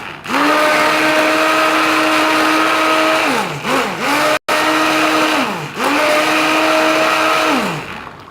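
An electric blender whirs through pineapple milkshake with two scoops of ice cream, a loud steady motor drone that dips and strains as the load shifts, stops briefly, then starts again and runs on.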